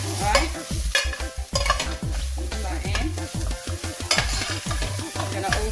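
Rice and peas stir-fried in a pan over high heat: scraping spoon strokes in an irregular rhythm over a steady sizzle, close and fairly loud, with no talking.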